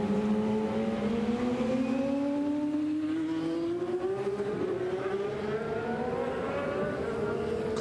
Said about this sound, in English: Simona's car will get restarted here in just a moment.